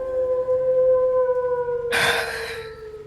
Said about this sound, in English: off in the distance, you hear a howl.